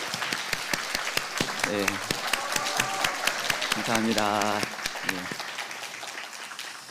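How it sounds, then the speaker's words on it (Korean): An audience applauds at a Catholic university president's inauguration Mass, sustained dense clapping throughout while a voice speaks briefly over it. "큰 박수 부탁드립니다"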